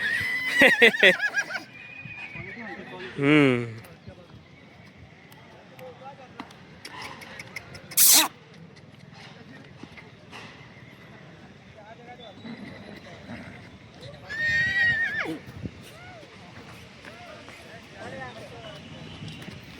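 At a busy horse market in Yeola, a young Marwari horse whinnies in a couple of shrill, wavering bursts, with people talking nearby and scattered market noise around it.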